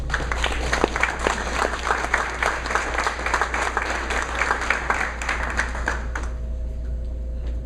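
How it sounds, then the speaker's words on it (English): A crowd at a softball banquet applauds steadily with dense, sustained clapping for several seconds before it tapers off abruptly near the end. "deserves a round of applause for the girls"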